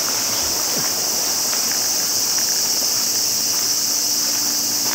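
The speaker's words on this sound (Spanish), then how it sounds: "el sonido habitual de Japón. Insectos y agua." Summer insects in Japan buzz in a constant high, shrill drone over a soft bed of running water, steady and unbroken.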